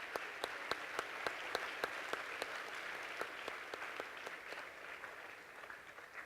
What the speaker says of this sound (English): Let's give them a big round of applause today.